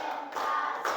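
Children in a classroom clapping hands in unison on a teacher's count, a few broad claps in quick succession, close and fairly loud with no talk.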